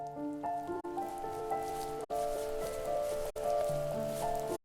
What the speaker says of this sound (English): The rain cascaded onto the Jade Valley where the entrance to the tree was.